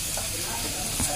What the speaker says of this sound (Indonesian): Goreng singkong.